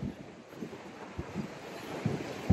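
Wind buffets a microphone at the front of a dive boat at sea, a steady low rumbling roar with gusty swells and soft splashing, no voices.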